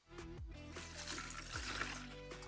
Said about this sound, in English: And then just some water so we could get our hearts submerged.